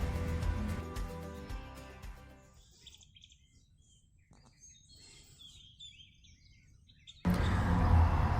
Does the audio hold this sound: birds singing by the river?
yes